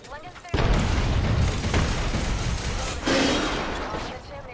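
A grenade goes off in a fast-paced battle royale shooter game as a sudden loud burst followed by a long, dense roar of noise that rumbles on for several seconds, with a voice speaking over it.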